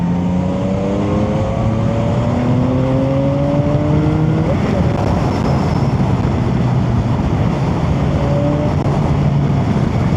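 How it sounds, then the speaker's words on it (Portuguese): A Chinese motorcycle engine while being ridden, revving through rising and falling gear pitches with steady loud wind and road noise throughout, continuous and close. "é uma moto show de bola, dá pra andar daorinha"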